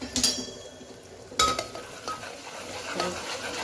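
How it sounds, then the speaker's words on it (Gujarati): A spoon stirs and scrapes through chili powder, Kashmiri chili and coriander-cumin powder in a hot pan, with a few sharp metallic clinks over a low, steady sizzle. "મિક્સ કરીએ."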